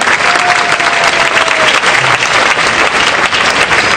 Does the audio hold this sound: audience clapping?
yes